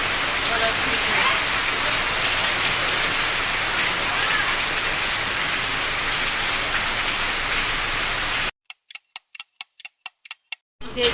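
Steady heavy rain pours outdoors in a continuous loud hiss for about eight seconds, then cuts off abruptly, leaving only a few sharp ticking clicks at the end.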